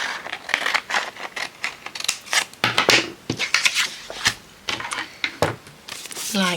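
Scissors snip through material for a small pouch in a rapid series of close, crisp cuts and scrapes, with a voice talking intermittently over them.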